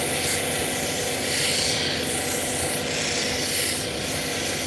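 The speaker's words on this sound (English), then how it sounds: "polishing Obsidian is like no joke" Steady abrasive rubbing of fire obsidian being polished, a continuous loud scrubbing hiss with slight swells in intensity and no voices.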